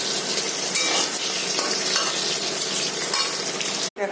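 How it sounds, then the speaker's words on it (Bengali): Pieces of chital fish frying in hot oil in a kadai, a loud, continuous close sizzle with occasional stirring clinks that cuts off abruptly at the end. "ভাজা হচ্ছে"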